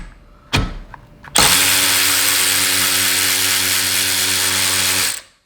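After a couple of short clicks, a DeWalt cordless ratchet whines loudly and continuously for nearly four seconds while loosening a bolt tightened to 50 foot-pounds, then stops abruptly.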